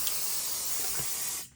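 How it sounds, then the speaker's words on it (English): A spray bottle mists an embroidery hoop in one continuous close hiss lasting just over a second before cutting off, with no talking. "Then I'm going to spray my hoop."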